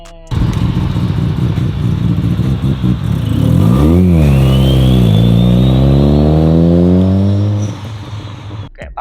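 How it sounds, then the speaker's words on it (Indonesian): A Mazda RX-7 rotary engine revs up loudly and climbs in pitch, holds a smooth high buzzing drone, then settles back down, heard close by. "Kalau kita dengar suaranya itu mesin RX-7 itu wah"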